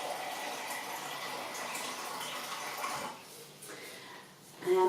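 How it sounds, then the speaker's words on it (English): Tap water runs steadily from a Kangen ioniser faucet into a jug, a continuous close gush that quiets and shifts in tone near the end as the flow changes. "So we're just running the tap water into the jug."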